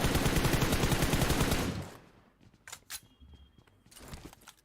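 Rapid automatic gunfire in a PUBG Mobile esports match, a loud dense burst of shots for about two seconds, then scattered fainter single shots and footsteps.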